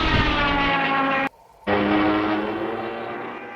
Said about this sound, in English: as the plane dived, the wind spun the propeller, driving the siren